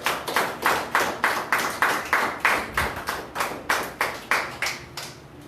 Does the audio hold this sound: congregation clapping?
yes